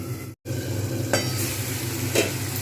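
Spice masala for a Bengali bhetki fish curry fries in oil over lowered heat with a steady close sizzle, broken by a couple of stirring scrapes and one brief dropout near the start; no talking.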